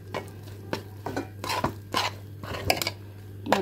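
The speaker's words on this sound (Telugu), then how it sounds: "మొత్తం కలుపుకోవాలి." Ghee being stirred into food in a pot with a spoon, giving repeated scraping and clinking strokes against the metal, close and fairly quiet, with no voices.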